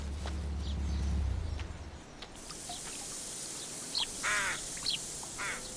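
Rooks calling in short harsh caws, a few separate calls spaced across the second half, moderately distant over a steady outdoor background hiss.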